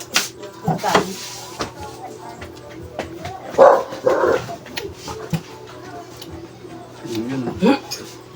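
A dog barks and whimpers in a few short bursts close by, mixed with people chatting in Filipino in a home setting.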